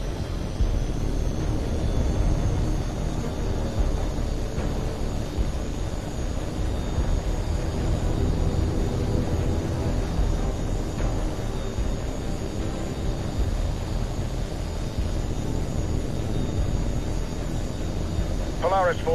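Steady, continuous roar of a jet aircraft in flight during a HAWX 2 combat flight game mission, a dense broadband engine drone that holds level for the whole stretch, with no talking over it.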